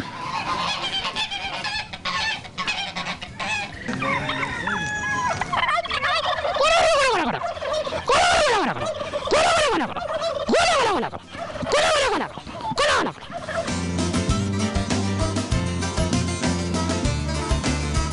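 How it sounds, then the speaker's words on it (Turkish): Tokat chickens, a Turkish fowl breed, call loudly and close by outdoors, giving a run of drawn-out, wavering calls one after another before the calls fade into a busier mix of background noise. "Ancak en aksileri ha bu gördüğünüz tokat tavukları."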